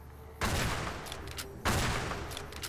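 Two loud, booming gunshots from a sniper rifle in Fallout: New Vegas, each a sharp crack followed by a long rumbling tail, spaced about a second apart.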